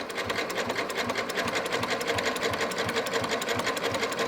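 A sewing machine runs a steady zigzag stitch through fabric with unfinished edges, giving a fast, even mechanical chugging rhythm with a busy clatter. It sounds close and continuous, with no voices.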